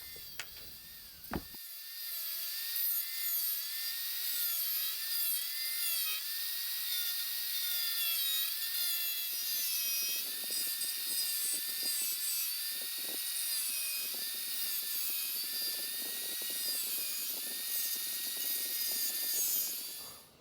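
Cutting noise runs steadily for about twenty seconds as a notch is cut into a plate of metal lawn edging, loud and close with a sharp whine, no voices.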